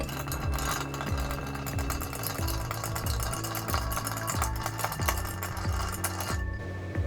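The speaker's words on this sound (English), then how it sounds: "Let's give it a stir." A Sazerac cocktail being stirred in a glass, a quick rhythmic series of light clinks and ticks from spoon and ice, close and continuous for several seconds, with no voices.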